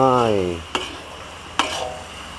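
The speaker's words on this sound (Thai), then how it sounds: "ใส่เส้น ใส่เส้นลงไป" Noodles stirred in a hot pan for pad see ew, with a steady sizzle and two sharp scraping spatula strikes, close and fairly loud, after a brief voice at the start.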